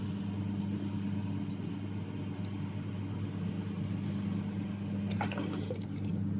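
A Flowmasta 6-litre concealed toilet cistern refills with a steady hiss and gurgle of running water, continuous and close throughout, with a brief splashy surge near the end as the float lifts and shuts the flow.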